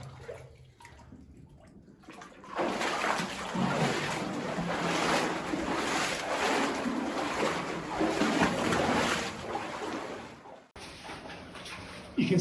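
Water seeps out of the wall of a collapsed, flooded mine and runs across old timber, a steady broadband trickle and wash that swells after a few seconds and holds, close by in an enclosed space.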